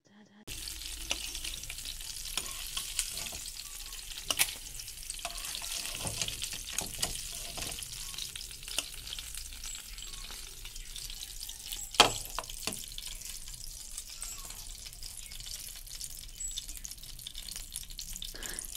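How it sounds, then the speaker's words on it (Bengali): Pieces of rohu fish fry lightly in a pan, a quiet, steady sizzling hiss with scattered faint clicks and one sharper clatter midway, heard alone without talk. "মাছ একদম হালকা করে ভাজা হয়ে গেছে"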